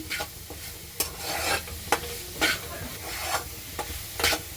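Coconut burfi mixture with sesame seeds being stirred and sautéed in a pan, with rhythmic scraping strokes about once a second over a soft, steady sizzle.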